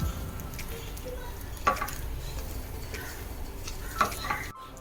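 Curd being stirred into madhura pachadi, a sweet Kerala-style dish, in a pan, with a steady soft scraping bed and two sharper spoon clinks against the pan.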